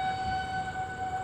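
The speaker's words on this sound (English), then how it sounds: "The horn is up ahead to the left." A horn or siren sounds up ahead on a hilly road, a steady, fairly faint tone held briefly over low background rumble with no speech.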